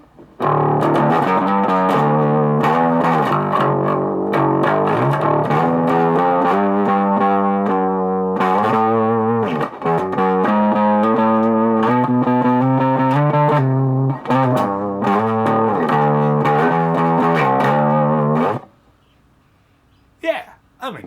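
Overdriven electric guitar with a gritty, slightly growling distortion, played continuously and loud for most of the clip before cutting to near silence at the end.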